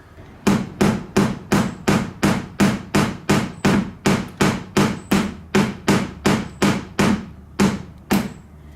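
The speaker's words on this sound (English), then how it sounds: "I'm using a carpentry tool to do fine little hammer work." Fine hammering with a carpentry tool on a wooden shot glass display case: a steady run of about eighteen sharp, evenly spaced taps, close and loud, with nothing else in the background.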